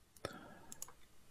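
A few quiet keyboard key presses, sharp isolated clicks spaced irregularly, close but faint, with no voice over them.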